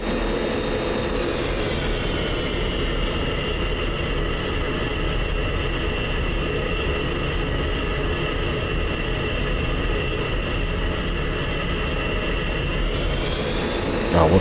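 Steady, loud whine and roar of an F-16 jet engine while taxiing in a flight simulator, a continuous droning tone with high-pitched harmonics that holds almost constant, shifting slightly near the end.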